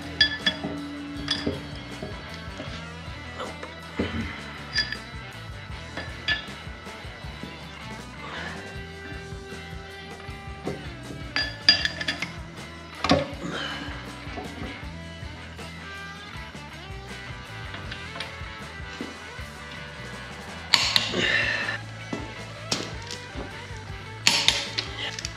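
A differential is fitted into a Dana 60 front axle for a 1940 Chevy project truck with a Cummins engine, giving scattered, fairly quiet metallic clinks and clunks of parts and tools, with short pauses and a few louder knocks.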